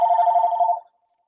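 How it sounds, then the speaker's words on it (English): A mobile phone rings with a steady electronic tone that lasts under a second and then cuts off into silence. "Oh, that's my phone"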